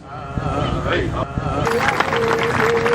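At a powwow, someone speaks over a crowd before the audience breaks into loud applause and cheering for veterans. The clapping and crowd noise swell and hold, and a whistle-like tone sounds above them.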